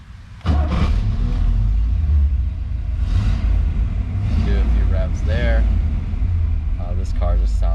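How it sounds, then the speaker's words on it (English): A 1963 Corvette Stingray convertible cranks and fires up with a sudden loud burst, then settles into a deep rumbling idle with a few throttle blips while someone talks over it. "You put that in and we will start it up. Do a few revs there."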